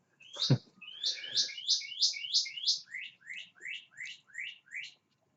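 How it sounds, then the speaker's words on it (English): A bird chirps in a quick series of about ten bright, repeated notes, steady and fairly close, with one short low thump near the start and no talk over it. "Then I need to get my pellet gun out and shoot that bird"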